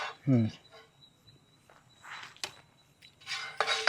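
A spoon clinks and scrapes while serving hot, crispy tikki onto plates at a night camp in a forest; a few light metallic taps sit under nearby talking.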